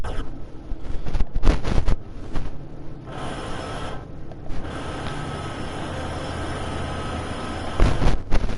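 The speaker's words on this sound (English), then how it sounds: "It looks like we have another train up here." A train rumbles and rattles past in the Train Sim World 2 game on Sherman Hill, a dense continuous roar of wheels and cars with rhythmic bursts, loud and close throughout.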